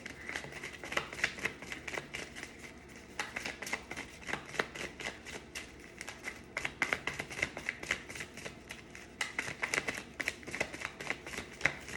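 Tarot cards being shuffled in quick, faint riffling bursts, a soft continuous flutter of crisp card edges with brief pauses between shuffles, close up.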